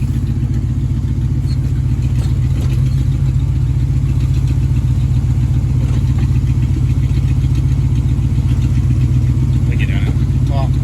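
A 1976 Jeep CJ5 engine idles after an exhaust repair, a loud, steady low rumble with even clatter running throughout, close by, with a voice speaking briefly over it.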